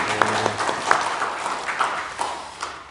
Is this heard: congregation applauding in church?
yes